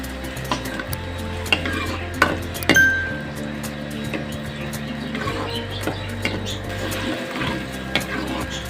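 Onions frying and being stirred in about a cup of hot oil for a potato and egg curry, with steady sizzling, scraping utensil strokes and occasional clinks against the pot, up close and without talk.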